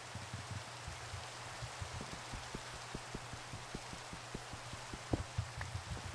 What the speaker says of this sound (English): Oh no, the rain.